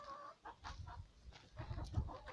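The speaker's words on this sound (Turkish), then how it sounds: "bak tavuk horoz" Chickens cluck softly in a short run of calls, with a rooster among them, close by and fairly quiet in a village, no voices.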